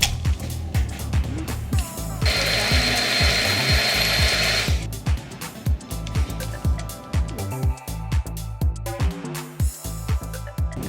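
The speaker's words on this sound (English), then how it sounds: "Next, I added the water and berries and blended it together." A blender whirs loudly through water, berries, ice and sugar for a few seconds, set against a steady run of sharp, repeated thumps that continue before and after it.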